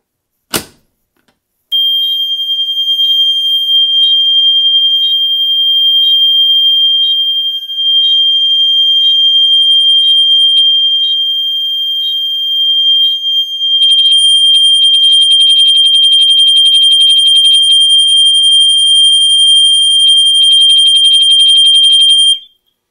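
A Gentex mini-sounder fire alarm, set off from a Gamewell pull station, gives one sharp click and then a loud, steady, high-pitched electronic tone. The tone holds for about twenty seconds, with a slight change in texture partway through, and no voices.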